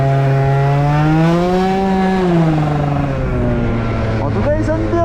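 A 70cc Rox moped engine revs hard on a straight-line test run, its buzzing two-stroke note climbing and falling in pitch, loud and close throughout.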